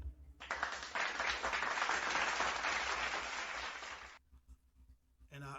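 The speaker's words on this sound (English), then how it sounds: "And I give him a round of applause" Audience applause, a burst of clapping lasting about four seconds, fairly loud and even, then stopping abruptly before a voice starts speaking.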